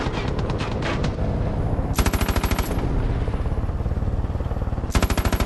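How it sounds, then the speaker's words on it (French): Rapid automatic gunfire aimed at the player in the video game Far Cry 5, steady clattering bursts with louder, sharper volleys standing out near the start and end, continuous throughout. "Qu'est-ce que c'est qui me tire dessus?"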